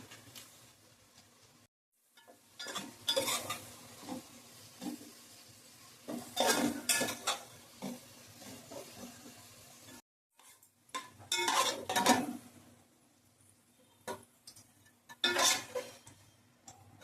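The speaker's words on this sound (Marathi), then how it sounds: "कांदा मी सारखा ढवळून घेत आहे," A spoon scrapes and knocks against a pot while onions fry for biryani, coming in uneven bursts of metallic clatter with brief quiet gaps and a faint sizzle underneath.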